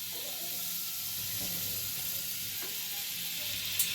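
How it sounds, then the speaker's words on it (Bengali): Butter sizzling on a heated tawa before sheek kebabs go on, a steady broad hiss close by with a faint clink near the end and no talk. "আমি কিন্তু তাওয়াটা জেলে অলরেডি বাটার দিয়ে দিয়েছি।"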